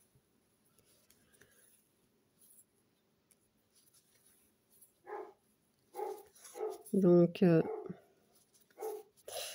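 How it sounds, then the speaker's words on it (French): A neighbour's dog barks somewhere outside a home where someone is cross-stitching, giving a few short, muffled barks at a distance as a person speaks French close by. "on entend le chien du voisin"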